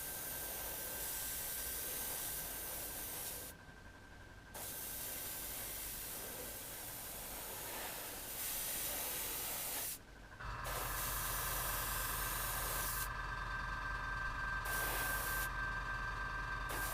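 Aerosol protective coat sprayed onto a Tamiya Ducati 916 1/12 model wheel, several sustained hissing bursts separated by short breaks, close and fairly quiet, with no voices.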